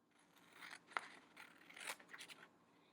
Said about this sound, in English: Okay, now I'm going to cut along this edge.